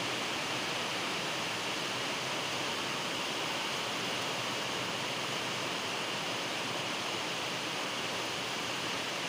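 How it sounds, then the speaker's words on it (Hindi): Heavy rain pours steadily in Uttarakhand, a dense unbroken hiss of falling water with flowing runoff, constant and even from start to finish with no pauses. "बारिश का मौसम अभी भी वैसा ही है, बारिश हो रही है।"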